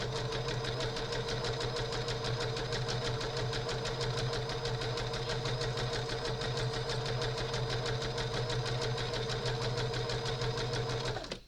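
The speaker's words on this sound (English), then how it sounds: "we're going to go like this with the zigzag and stitch that on there" A sewing machine zigzag-stitching a scrappy quilt block runs at a steady, fast, even whir with a constant motor hum and rapid needle chatter throughout, close and uninterrupted.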